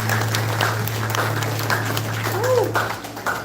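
Applause from an audience at a cultural night of traditional Ayacucho music, steady clapping over a low constant hum with some voices mixed in.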